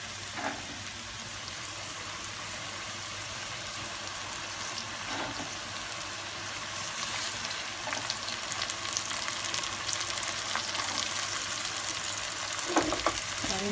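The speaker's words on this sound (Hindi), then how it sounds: "जिसको हम अच्छे से भून लेंगे 2 मिनट के लिए" Okra curry with tomatoes, green chilies and spices frying in a pan, a steady close sizzle running throughout with scattered crackles and a few scraping stirs.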